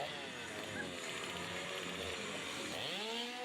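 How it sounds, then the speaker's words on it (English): A chainsaw runs steadily through a wrestling entrance, a continuous buzzing whine that dips and climbs as the throttle shifts, filling the arena over loud crowd noise. "He has a chainsaw, for crying out loud."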